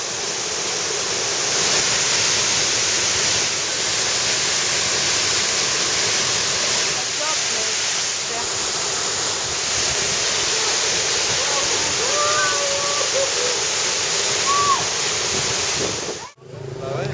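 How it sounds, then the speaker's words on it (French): Loud, steady roar of a waterfall fills the whole clip, a constant broadband rush of falling water, with faint birdsong and brief voices barely audible beneath. "On a trouvé la cascade. Regardez un peu comme elle est magnifique."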